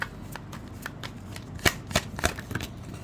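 Tarot cards are shuffled and drawn in a quiet room, a series of soft riffling flicks and sharp papery snaps at irregular intervals, close and fairly quiet, with no talking.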